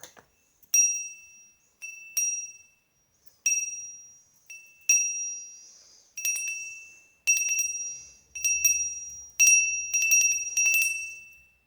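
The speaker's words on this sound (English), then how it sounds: "let's have a little magical bell to close" A small hand bell shaken during an affirmation, about ten bright, separate rings that come quicker and overlap toward the end, each leaving a clear ringing tail, close and alone.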